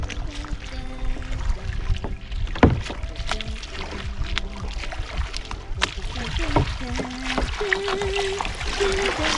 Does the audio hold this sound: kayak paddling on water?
yes